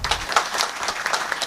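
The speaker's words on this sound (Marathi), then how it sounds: "एकदा त्यांच्याकरता टाळ्या वाजवा." Audience applause at a kirtan in Nashik district, a short burst of scattered hand clapping from a crowd, fairly close and steady throughout.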